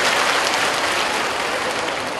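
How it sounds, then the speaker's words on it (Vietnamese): An audience at a Buddhist teacher's talk breaks into brief, dense applause, a close, steady clatter of many hands filling the whole moment without any speech. "Xin dành một tràng pháo tay để tự tán dương mình."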